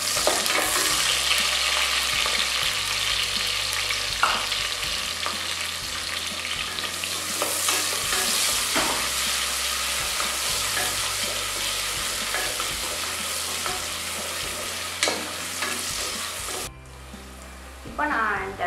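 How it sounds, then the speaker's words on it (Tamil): Chopped onions sizzle and crackle in hot oil in a pan while cooking vegetable white brinji rice, a steady close frying hiss with occasional stirring clinks, cutting off near the end. "இப்போ நம்ம வெங்காயத்தை போட்டுக்கலாம்."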